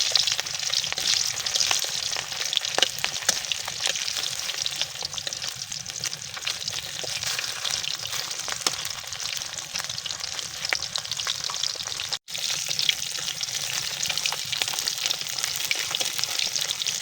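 Flour-coated food frying in hot oil in a wok, close and constant bubbling sizzle at an even level, with one brief dropout near the end before the crackle resumes.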